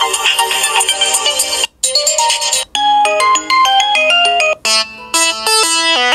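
Lenovo Vibe Shot Z90-7 smartphone ringing at maximum volume, loud electronic ringtone melodies in quick stepped note patterns, several different tunes following each other with brief gaps.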